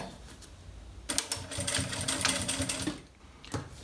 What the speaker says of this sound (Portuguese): Vou colocar aqui e vou passar a costura